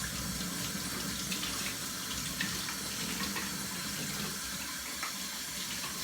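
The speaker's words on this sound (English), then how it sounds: "I'm running the water across the channel and then in the other direction as well." Tap water runs steadily to rinse a part of a Hoover upright carpet cleaner, a constant close-up splashing and hiss that holds level from start to finish.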